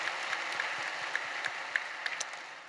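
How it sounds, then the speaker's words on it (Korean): A church congregation at a Friday evening worship service applauds the choir with sustained, moderately distant clapping, with a few sharper individual claps standing out. "뜨거운 감사 박수 한번 주시기"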